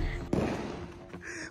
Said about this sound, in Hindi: पटाखे कौन फोड़ रहा है?